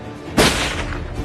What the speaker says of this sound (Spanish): hace un disparo al aire